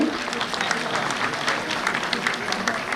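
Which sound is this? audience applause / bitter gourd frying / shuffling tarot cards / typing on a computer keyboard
audience applause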